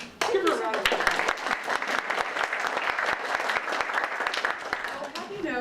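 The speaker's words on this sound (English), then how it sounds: "Give her a round of applause." An audience applauds a guest speaker, Lisa Schweitzer, at an academic talk, a dense burst of many hands clapping that swells quickly, holds steady for several seconds, then tapers off.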